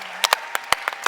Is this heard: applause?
yes